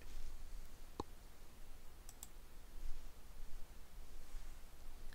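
Computer mouse clicks during database software navigation, a few sharp isolated clicks over a faint background hiss.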